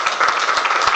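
An audience at a speaking event gives a round of applause for Raymond: a brief, dense patter of many hands clapping, loud and close, with no voices.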